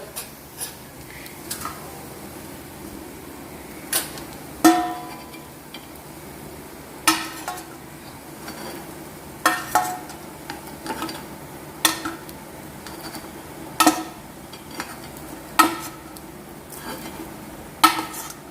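Kuzhi paniyaram are lifted one by one from a hot cast pan onto a plate, producing scattered metallic clicks and scrapes over a faint sizzle, close and moderately loud.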